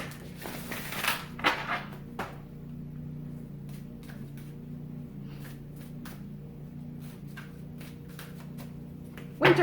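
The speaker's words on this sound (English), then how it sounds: "I'm gonna shuffle and pull from the Natural Enchantments Oracle" Oracle cards from the Natural Enchantments deck being shuffled by hand, a few crisp riffling bursts near the start followed by soft, scattered taps and handling noises over a low steady hum, close and fairly quiet.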